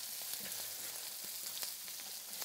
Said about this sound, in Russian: Вот как здесь хорошо сейчас все прижаривается